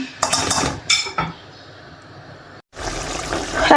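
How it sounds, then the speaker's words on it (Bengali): Fish eggs stirred into a cooking pot with a metal spoon, giving bright clattering scrapes and clinks against the pot, a brief quiet gap, then renewed close stirring. "এখন একটু ভালো করে মিক্স করে দিচ্ছি"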